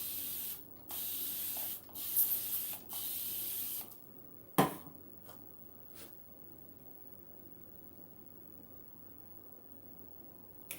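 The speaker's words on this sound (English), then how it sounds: "Spray a little bit more water on it." A spray bottle mists water onto hair during detangling, several quick hissing bursts in a row followed by quieter brushing and handling sounds, close and clear.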